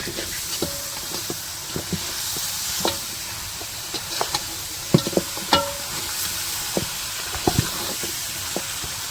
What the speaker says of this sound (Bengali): এই যে মশলাগুলো এখন হচ্ছে কষাই নিচ্ছে।